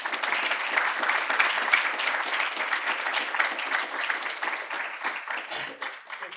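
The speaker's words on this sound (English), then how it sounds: "Can we give a round of applause for Group 1?" A presentation audience applauds a student group, a full, steady round of many hands clapping that holds for several seconds and then tapers slightly toward the end.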